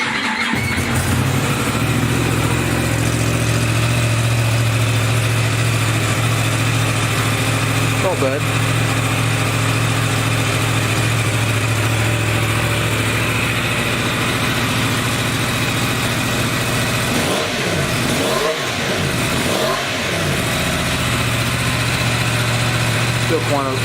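A 2018 Yamaha R1 sportbike with its muffler deleted idles loud and close, a steady rough low drone with a few brief throttle blips near the end. Someone speaks briefly over it.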